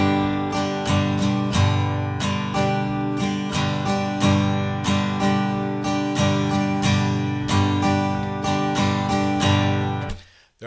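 An acoustic guitar strums chords in a steady, repeating down-up pattern for about ten seconds, loud and close with a driving rhythm, ending with a brief muted stop and no talking.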